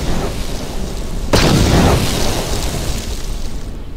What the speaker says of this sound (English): So I like explosions, let's blow this stuff up